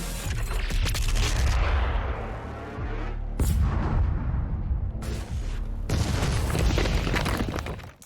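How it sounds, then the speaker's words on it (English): Heavy booming cannon blasts from Doom Eternal, where the Doomslayer is launched out of a cannon on Mars, form a loud, dense barrage of roaring explosions with brief pauses between bursts. "And then they shoot the Doomslayer out of a cannon as a means of transportation."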